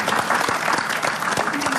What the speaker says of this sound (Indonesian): Tepuk tangan buat Ibu Irma.